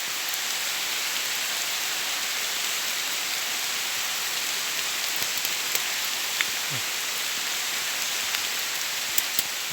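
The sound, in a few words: rain falling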